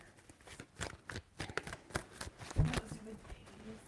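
Tarot cards being shuffled by hand in quick riffling bursts, close and crisp, several flurries of papery flicks with a louder slap partway through, and faint speech low underneath.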